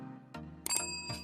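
A bell notification sound effect: a couple of bright ringing dings, the last one a doubled chime, standing alone with no talk around them.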